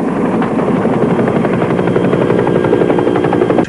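A helicopter flies in a Swahili-dubbed War Bus video game, its steady loud rotor chop running continuously and close for the whole stretch with no talk over it.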